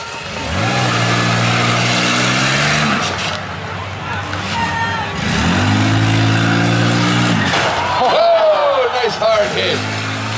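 Minivans rev and slam into each other at a county fair demolition derby, engines roaring in repeated surges with a thumping hit near the end, under a crowd murmur and an announcer's voice.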